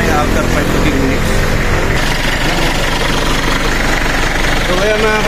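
A diesel Mitsubishi Pajero 4x4 with the 4M40 engine idles steadily with a low, continuous rumble and some knocking vibration, close and loud throughout, with talk over it.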